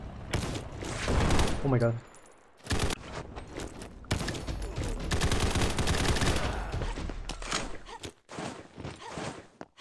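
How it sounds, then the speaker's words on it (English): Gunfire rattles through a Call of Duty Warzone match on the new Combat Zone map, with loud bursts of rapid shots and sharp single cracks spread across the moment, and a voice exclaiming briefly over the chaos. "Somebody shot me out."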